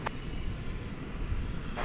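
Qantas heavy airliner readying for takeoff at DFW Airport, a steady broadband jet engine roar heard from a distance, continuous throughout without talk.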